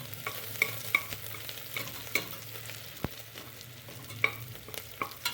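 Thickly sliced onion frying in a little oil in a pan for anda khichadi, a soft continuous sizzle with periodic scraping and stirring clicks of a spoon, close and fairly quiet.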